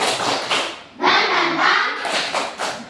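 A group does a rhythmic spirit clap, short bursts of unison clapping in a quick pattern, close and loud, mixed with voices.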